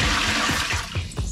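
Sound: boat bilge pump pushing water out

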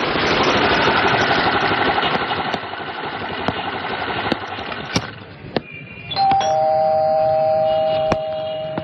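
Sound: doorbell ringing

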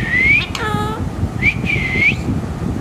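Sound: pet parrot calling out its own name

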